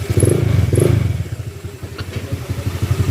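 A Honda ADV160 scooter with an aftermarket exhaust pipe and a muffler concern idles close by, giving a loud, throbbing low engine pulse with a couple of brief surges and steady rhythmic beats.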